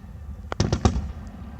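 Fireworks bursting at the Gunning display on 8 September 2018, several sharp booms in quick succession, fairly distant and loud, with a faint later pop trailing off.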